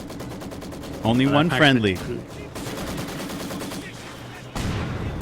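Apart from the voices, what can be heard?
machine gun fire in a video game (Company of Heroes)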